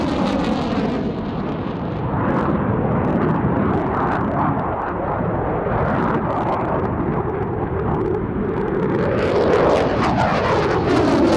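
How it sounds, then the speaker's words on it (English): A Belgian Air Force display aircraft performs at the Waddington airshow, its loud jet roar filling the air continuously, swelling and shifting in pitch as it manoeuvres past the crowd. "exploits the immense power and manoeuvrability of the aircraft to the full in an excellent display for the Waddington crowds"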